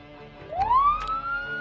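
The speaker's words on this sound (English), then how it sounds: "I'm actually going to go ahead and turn the siren on here." A vehicle siren in the zombie survival game Project Zomboid winds upward in pitch in a single rising wail, moderately loud, with faint clunks at the start and end and no talking.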